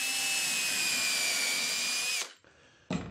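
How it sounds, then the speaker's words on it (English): A power drill with a 1/8 inch bit bores a pilot hole in a wooden chisel sharpening jig, whining steadily and loud for about two seconds, then spinning down to a stop before a brief knock. "I put that 1/8 inch drill bit in here to drill a pilot hole"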